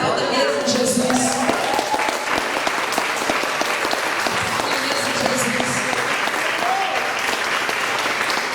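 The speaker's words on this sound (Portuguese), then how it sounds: "Aleluia, aplauda mesmo Jesus." A church congregation applauds in sustained, dense clapping that fills the room, with a voice calling out over the applause and a few cheers mixed in.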